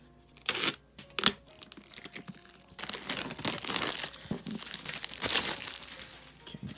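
Plastic shrink wrap being cut and pulled off a deluxe edition hardcover book, close crinkling and tearing with a few sharp bursts early on, then a longer run of continuous rustling.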